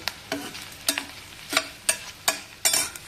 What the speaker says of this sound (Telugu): చక్కగా వేయించుకున్నాను ఫ్రెండ్స్ ఇదిగో వేగిని చూడండి